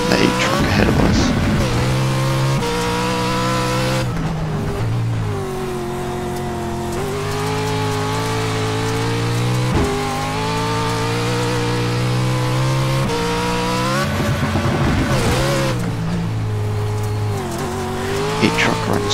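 Pro 4 off-road race trucks in iRacing at Crandon, with loud, sustained engine roar rising and falling through the gears and bursts of tire squeal and skidding at the start and near the end.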